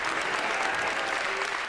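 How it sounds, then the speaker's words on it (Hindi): Dense audience applause fills the hall at a Hindi comedy poetry show, a continuous, even clapping that stays loud from start to finish. "बोलना पड़ेगा, ताली बजानी पड़ेगी"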